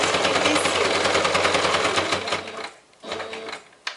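A sewing machine stitches a fabric heart pouch in a fast, loud, steady run, then stops briefly and resumes for a short backstitch burst, close up.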